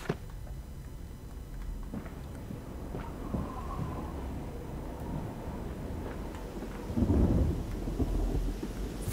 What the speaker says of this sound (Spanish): Como no tormenta